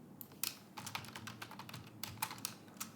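Quick typing on a computer keyboard, a close run of light key clicks in uneven bursts with short pauses, faint and without talk.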